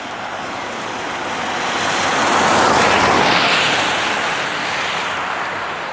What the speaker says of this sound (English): the whole mountain is full of waterfalls